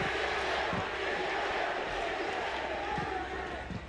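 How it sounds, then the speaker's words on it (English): An esports match crowd keeps up a steady, dense roar through the whole moment, with a few faint thumps underneath, and no clear single voice standing out. "The roar of the crowd behind them"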